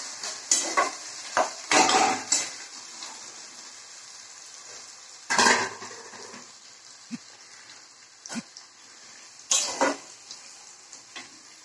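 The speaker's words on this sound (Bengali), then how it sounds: "মা এখন এই পেঁয়াজ গুলো ছেড়ে দিচ্ছে তেলে" Onions dropped into hot oil in a pan: a steady, close hiss of frying under repeated louder bursts of stirring and scraping, with occasional soft clanks.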